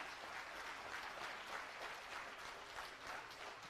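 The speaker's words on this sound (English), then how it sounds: "I request you all to continue with your thunderous applause" An audience claps steadily at a bank officers' association Golden Jubilee celebration, a continuous wash of many hands, fairly faint and distant.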